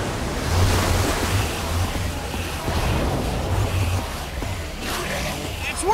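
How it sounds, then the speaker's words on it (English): Water gushes out in Minecraft Story Mode, a steady broad rushing wash like surf that fills the scene, rising and falling slightly throughout. "I don't know how much water this thing is gonna kick out"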